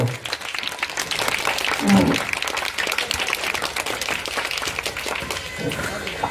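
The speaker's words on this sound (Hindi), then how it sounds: "तो ताली से जोर से ताली बजे उनका स्वागत कीजिए एकदम।" An audience at a Jan Suraaj political rally in Raghunathpur, Bihar, claps loudly and continuously in a dense, sustained burst of applause, with a voice briefly heard over the crowd.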